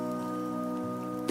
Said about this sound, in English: Rain is coming.